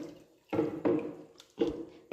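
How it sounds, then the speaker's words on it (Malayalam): Water being poured into mutton for cooking, in short, close splashing bursts, three or four separate pours with brief quiet gaps between them. "ഞാൻ വെള്ളം ഒഴിക്കുന്നുണ്ട് കേട്ടോ."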